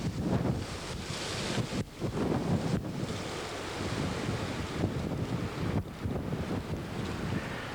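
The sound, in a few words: wind blowing on a Florida beach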